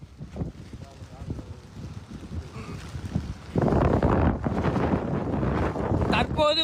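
Strong cyclone wind gusting across Pamban bridge during Cyclone Ditwah, a loud, continuous roaring buffet that swells sharply midway and stays heavy, with faint talk underneath.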